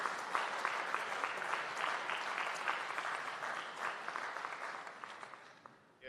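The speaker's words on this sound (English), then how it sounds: "Let's give a round of applause for the Amber Group" An audience applauds for the sponsor at a national AI lab signing ceremony in Jamaica, a steady wash of many hands clapping for about six seconds before tapering off at the end.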